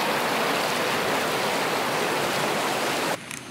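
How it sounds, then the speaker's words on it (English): A raging river rushes loudly and steadily as broadband roaring water close by, continuous until it cuts abruptly to a quieter background near the end. "here's my water source tonight, a raging river."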